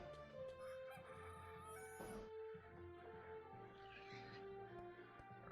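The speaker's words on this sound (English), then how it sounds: "there was a rooster file sound being played, and that was quite ridiculous" In the video game Clanfolk, a faint rooster crow rises over quiet background game sounds, with soft clucking and other tonal ambience around it.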